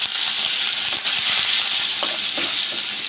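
Curry leaves fry in hot tempering oil with asafoetida and turmeric, giving a loud, continuous sizzle with brief stirring scrapes near the end.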